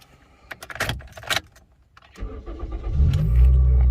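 Keys jangle briefly before a Toyota Vios fitted with a new remote key cranks and starts, the engine catching and settling into a loud, steady idle close by.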